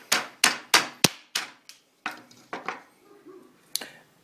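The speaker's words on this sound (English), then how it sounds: "after you've hammered all those notches out" A hammer knocks out wooden notches to form a groove while building a basic workbench, giving about a dozen sharp, close wooden strikes in an uneven rhythm that fade toward the end.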